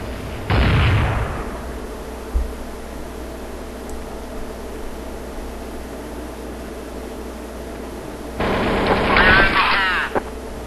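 Two loud bursts of gunfire in Counter-Strike: Source, one near the start and a longer one near the end, separated by a quiet stretch of low game ambience.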